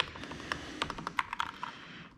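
Someone types on a computer keyboard at close range, giving a quick, uneven run of sharp clicking keystrokes with no talk.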